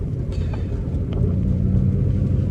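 A Jeep Grand Cherokee ZJ engine runs steadily, a loud, close, low rumble holding at an even level throughout.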